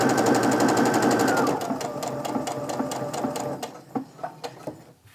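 A sewing machine runs fast and close while stitching quilt seams, a dense rapid needle clatter that slows midway into separate, spaced thumps as it eases toward a point where the seams meet.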